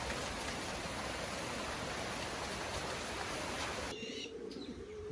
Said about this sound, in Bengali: এখন আবার বৃষ্টি জোরে চলে আসছে